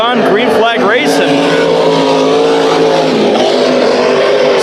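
Race cars at Bakersfield Speedway under green flag racing, loud engines roaring and sweeping past close by with rising and falling pitch, then a sustained pack drone.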